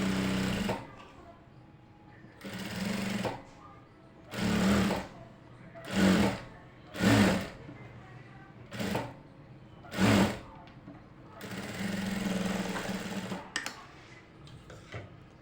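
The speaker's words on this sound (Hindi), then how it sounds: "अब उसके बाद में सिलाई लगाएंगे।" A sewing machine stitches a folded strip of a ready-made kurti in repeated bursts of whirring, several short runs separated by pauses, with a longer run near the end.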